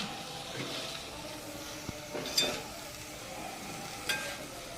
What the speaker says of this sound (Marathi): फ्लावर टाकून देऊ आपण याच्यामध्ये हलवून घ्यायचं आपल्याला